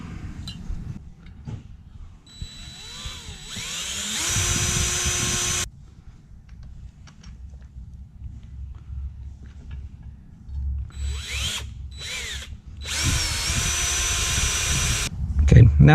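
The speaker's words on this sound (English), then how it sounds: "now that we've got our mounting holes drilled, our feed hole, our drain hole" A drill bores an oil feed hole into a Harley engine case, its high whine coming in two loud bursts with quieter workshop noise between them.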